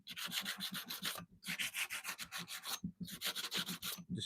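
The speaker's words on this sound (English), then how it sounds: "Now let's just give her a quick rub and then we'll draw it back a little bit." Quick, rhythmic back-and-forth rubbing scrapes along a hand-forged steel blade in a forge shop, three bursts of steady abrasive strokes separated by short pauses, close and fairly quiet.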